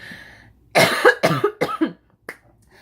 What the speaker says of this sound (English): I'm gonna cough, excuse me.